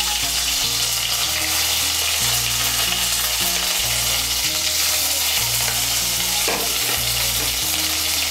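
Ginger paste and green chili paste hit hot oil for a raw banana kofta curry, producing a loud, dense, unbroken frying hiss up close, with steady low tones running underneath.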